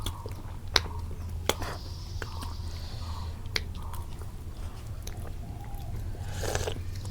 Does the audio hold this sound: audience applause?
no